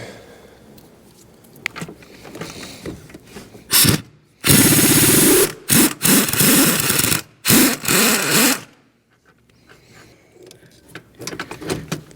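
An impact or power tool running in loud bursts, starting and stopping several times, while removing 18mm rear transmission mount bolts from a 2008 to 2020 Chrysler Town & Country with a 62TE transmission; quieter workshop noise comes between the bursts.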